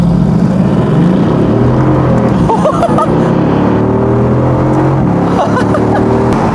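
A Mercedes-AMG GT S Roadster, roof open, makes a launch start on a closed road: a loud, close engine roar whose pitch climbs and drops through successive gear changes as it accelerates hard.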